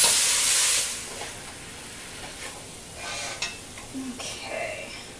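Ground meat for chili sizzling in a pan as a spatula breaks it into chunks: a loud burst of hissing steam at first, then steady frying crackle with scraping, stirring clicks from the spatula.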